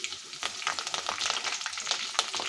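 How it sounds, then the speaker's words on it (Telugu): Curry leaves hit hot oil alongside green chillies for a potato tomato curry, a loud, steady crackling sizzle with scattered pops and spatters and no voices. "పచ్చిమిర్చి మొత్తం కూడా ఆయిల్లో ఫ్రై అయిపోయిన తర్వాత ఇప్పుడు కరివేపాకు వేస్తున్నాను"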